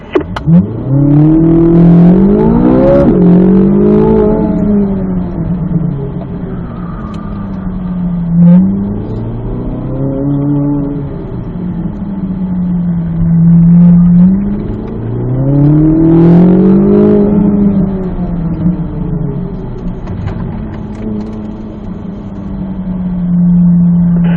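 A Corvette Z06 on an autocross course roars loudly and close, its engine repeatedly rising and falling in pitch as it accelerates, lifts and pulls through the turns.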